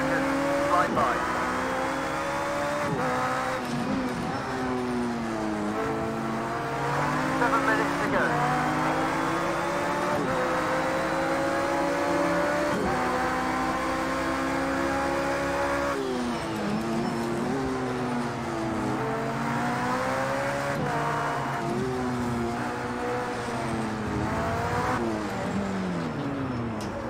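Race cars, including Porsches and Fords, run at the Long Beach street circuit in Project Cars 2, an engine drone rising and falling through gear shifts with passing cars, steady and loud throughout.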